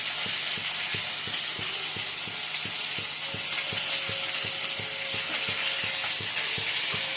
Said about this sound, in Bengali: এবার ঘি দিয়ে দিচ্ছি